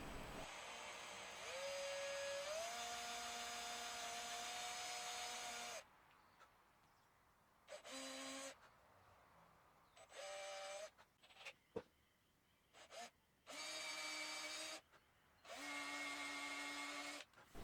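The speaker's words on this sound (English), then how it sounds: "now I'll drill and countersink for the screw that will hold it in place" A small power drill whines steadily, drilling and countersinking a screw hole in a bass guitar neck, then runs in several short bursts separated by pauses, close and fairly loud, with occasional clicks between.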